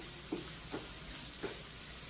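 Spices frying in a pan for Kerala-style beef fry, a steady faint sizzle with three soft scraping strokes of stirring spread across the clip, no voices.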